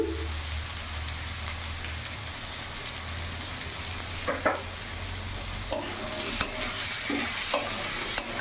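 Spinach curry with fish head, salt, turmeric and cumin stirred in a pan over a soft continuous sizzle, with a few sharp scrapes and clinks toward the end, close and moderately quiet.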